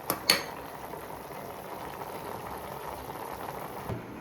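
A steady, low bubbling simmer of water cooking down in a pan of chicken, with a couple of brief clinks at the start and a faint knock near the end.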